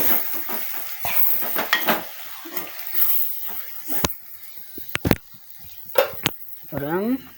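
Chili powder sautéing in a pan for a Batticaloa-style prawn curry: soft sizzling with a spoon scraping and stirring in irregular strokes and a few sharp metallic taps against the pan, close by, with a person talking over it.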